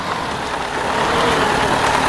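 An old tractor engine straining while stuck on a rock in the Spintires Mudrunner video game, a loud continuous rumbling drone that swells slightly as it labours, with no speech.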